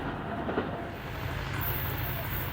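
The 6 Town Green Line Express passes through Jungshahi station with a steady, loud rumble of wheels on track and a hiss that carries on without a break, some faint clicks mixed in.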